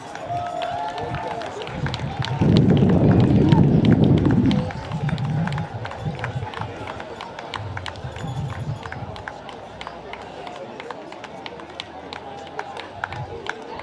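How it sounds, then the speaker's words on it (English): Crowd applause at a school sports championship finals as sponsors lead the team procession, a burst of clapping and cheering swelling for a couple of seconds before settling into scattered crowd noise and footfalls, with an announcer's voice over the top. "let's applaud our sponsors as they come"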